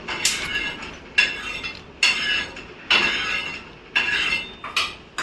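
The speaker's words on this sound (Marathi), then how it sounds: "आता हे मी काढून घेते एका प्लेटमध्ये" Freshly roasted peanuts are tipped from a pan onto a plate, making a series of about six sharp metallic clinks and scrapes at roughly one-second intervals, close and clear with no voices.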